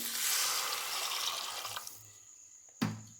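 Dissolved tamarind water pours into a pan with green cluster beans frying in it, a liquid splash and gurgle that fades after a second or two, followed by a sharp clink near the end.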